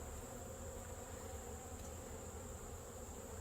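Honeybees buzz around their queen inside a hive, a steady, dense, unbroken drone close up with no voices.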